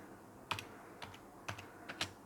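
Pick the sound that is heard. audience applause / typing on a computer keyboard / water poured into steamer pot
typing on a computer keyboard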